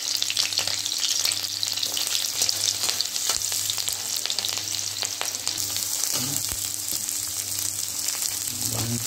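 Steady, dense sizzling of garlic and green chilli frying in a pan, loud and close, with a few stirring clinks and scrapes near the end.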